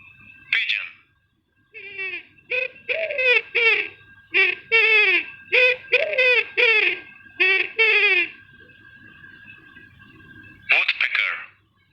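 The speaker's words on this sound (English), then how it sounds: "pigeon" A pigeon gives a run of repeated, rhythmic cooing notes in quick succession, clear and near, bracketed by a short chirp at the start and end, with no talking.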